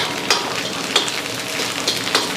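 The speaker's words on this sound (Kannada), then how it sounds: "ಫ್ರೈ ಮಾಡ್ತಾಯಿದ್ದೀವಿ ನಾಟಿ ಸ್ಟೈಲು" Pork frying in hot oil with curry leaves, natti style, a close steady sizzle with sharp crackles and pops every half second or so, no talking.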